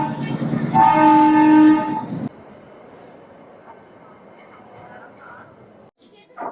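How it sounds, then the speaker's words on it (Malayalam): An Ooty Nilgiri mountain train with a diesel engine sounds a loud horn blast while departing, followed by a steady, quieter rumble of the moving carriages with voices in the background. "ഇപ്പോൾ ട്രെയിൻ എടുക്കാനുള്ള സമയമായി."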